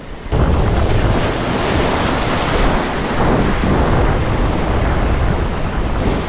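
Ocean surf crashes continuously along a Palawan shore, a loud broad roar of breaking waves mixed with gusty wind buffeting the microphone, with no voices heard.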